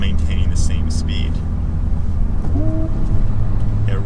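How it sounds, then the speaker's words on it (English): A manual car's engine hums steadily at cruising speed, then rises in a brief rev-matching blip as the driver downshifts into third gear, with a voice talking over the engine throughout. "It revved it up again as I downshifted into 3rd."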